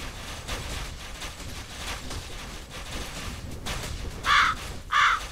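Two loud, harsh crow caws from the video game Night Crows ring out near the end over a constant background hum, with no talking.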